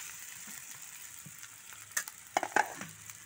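Potatoes fry with browned onions in a pan, a soft sizzle close by, then several sharp scraping and clattering strokes as the spoon stirs them together near the end, with no voices.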